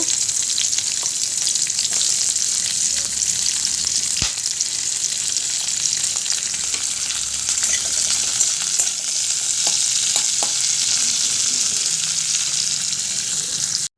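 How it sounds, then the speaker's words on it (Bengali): Onions fry in oil in a kadai, a loud, dense sizzle running steadily with occasional stirring scrapes and clicks, close up and with no voices. "এবার কড়াতে পেঁয়াজ দেব পেঁয়াজটা অল্প করে লাল লাল মতো হয়ে গেলে নাচিয়ে নেব"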